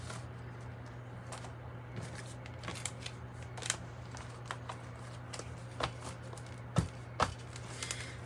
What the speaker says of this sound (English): Let's pull a breakthrough spread one more time, and then we'll cut the deck.